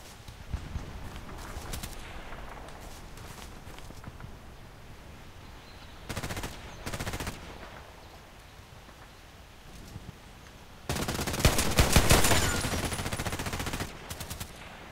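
Automatic gunfire in a shooter game, short rattling bursts of rapid shots separated by quieter stretches, with a longer heavy burst near the end, fairly loud and close, no talking.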